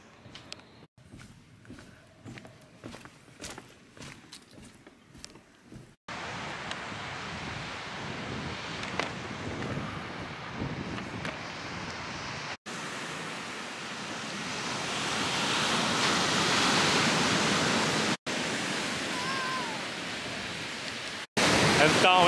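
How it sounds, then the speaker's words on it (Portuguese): Broad, rushing Pacific Ocean surf near San Francisco's Golden Gate Bridge, with wind buffeting the microphone, swelling in the middle section, after a stretch of quieter background sounds. "Já dá pra ouvir as ondas aqui."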